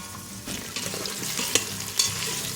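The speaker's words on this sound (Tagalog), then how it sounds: "piprituhin natin yung ating hiniwang carrot at patatas" Sliced carrots and potatoes fry in a pot, giving a steady close sizzle with stirring scrapes and a couple of sharp clinks from a utensil against the metal; no voices.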